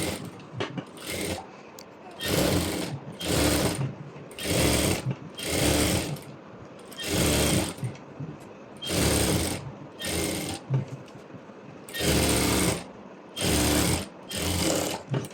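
An electric sewing machine runs stitches along the edge of saree fabric, joining the lining to the main cloth for a maxi-dress sleeve. About a dozen loud, rapid whirring bursts are separated by short pauses.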